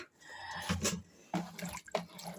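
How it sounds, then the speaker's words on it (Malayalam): Tapioca being washed by hand in water, with splashing and sloshing in short bursts, close and moderately loud. "അത് കഴുകി മാറ്റുവാണ്"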